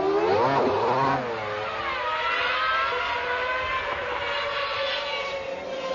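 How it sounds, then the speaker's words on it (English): A 1999 Formula One car engine at Silverstone revs hard, its pitch climbing and sweeping up and down in sustained loud whines against the rev limiter, close by with no talking. "I'm going to put some revs on."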